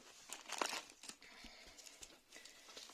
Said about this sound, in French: j'avais acheté donc un papier comme ça à Action, donc transparent